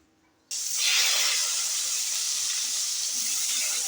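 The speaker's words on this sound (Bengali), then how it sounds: "আর একটু তেল দিয়ে দিচ্ছি আরও কটা বেগুন আছে সেগুলোকে ভেজে নেবো" Eggplant slices drop into hot oil. After a brief silence a loud, sudden sizzle bursts out and settles into a steady, sustained hiss with no voices.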